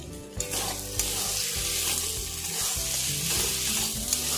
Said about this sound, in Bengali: এবার আমি ভালোভাবে মিশিয়ে নেব